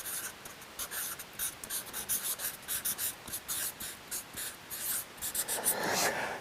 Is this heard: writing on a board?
yes